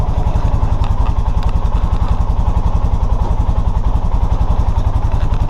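A 2018 Polaris 450 Sportsman ATV engine runs loud and close with a steady, even thumping idle pulse, as the machine is shifted into reverse gear.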